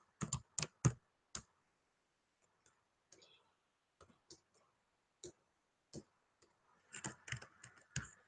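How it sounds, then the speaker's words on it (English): Someone types on a computer keyboard in quiet, sparse bursts of sharp clicks separated by pauses, with a quicker flurry of keystrokes near the end. "Let me type this back to her."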